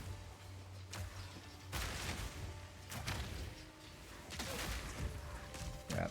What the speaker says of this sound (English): Explosions are so satisfying in the game.